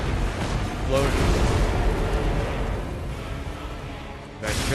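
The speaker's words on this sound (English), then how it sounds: "Explosion." An explosion in Lies of P during a fight, a heavy booming rumble with bursts at the start and near the end, layered with busy game combat noise.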